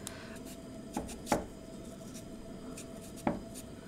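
A knife cuts potatoes for a vegan Korean pulled dough soup, producing a few sparse, close chops and taps over a quiet kitchen hum, with no talking.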